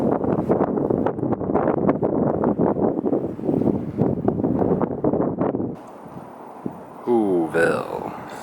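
Strong wind buffets the microphone high on Mt. Crumpit, a loud continuous roar with gusty surges for most of the clip before dropping away, leaving a brief rising squeal near the end.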